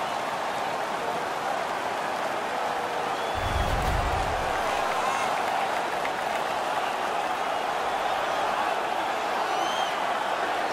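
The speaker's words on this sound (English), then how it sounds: "The crowd is ecstatic." A loud, steady roar of an ice hockey arena crowd at the Stanley Cup Finals between the Vegas Golden Knights and Tampa Bay Lightning, cheering after a fight, a continuous wash of noise with a brief low thump near the middle.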